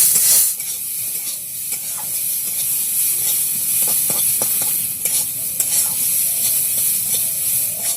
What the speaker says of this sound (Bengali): অনবরত এই চালগুলোকে আস্তে আস্তে খুন্তিতে নেড়ে যেতে হবে যতক্ষণ না চালের কালারটা চেঞ্জ হয়